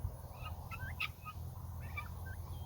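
Heritage breed turkeys on a hot, humid Oklahoma morning give several short, warbling gobbles at a moderate distance over a low, steady outdoor hum.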